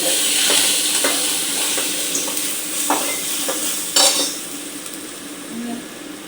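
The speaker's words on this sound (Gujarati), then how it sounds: "આપણે કાંદા નાખ્યા છે ને એક ચમચી બે ચમચી જેવા આપણે ટમેટા નાખી દીધા છે" Onions and tomatoes sizzle and fry in a pan while a spoon scrapes and stirs them several times, with an occasional clink of utensils.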